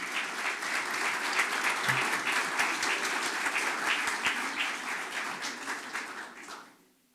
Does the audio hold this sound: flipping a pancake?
no